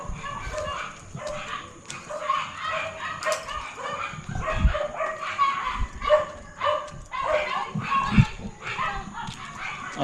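Dog barking in repeated yappy bursts mixed with whimpers, fairly close, with people speaking intermittently in the background.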